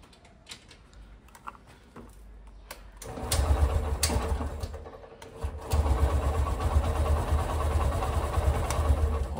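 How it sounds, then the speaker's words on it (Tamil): A Honda SP 125 motorcycle on its side stand in neutral cranks briefly after some clicks, then catches and settles into a steady close idle. "ஸோ இப்போ சைட் ஸ்டாண்டோட நம்ம நியூட்ரல் பண்ணிவிட்டு ஸ்டார்ட் பண்ணுவோம்."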